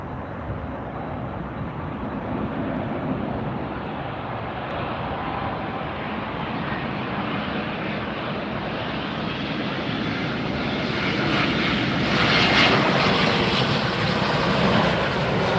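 A long-haul airliner arrives at Miami International Airport after a flight from Doha, its engine roar steady and broadband throughout, swelling slightly louder near the end as the jet passes closest.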